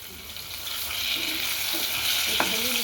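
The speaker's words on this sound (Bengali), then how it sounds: "প্রথমে আলুটা ভেজে নিচ্ছি।" Potato pieces fry in hot oil with salt at the start of a bhetki fish curry, producing a steady loud sizzle and hiss close by, with a brief spatula knock near the end.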